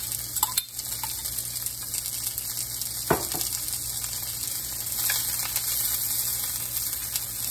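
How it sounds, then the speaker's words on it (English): Onions frying in a hot iron skillet over medium-high heat, a steady soft sizzle under a constant electrical hum, with an occasional faint tap or stir. "let those onions start cooking"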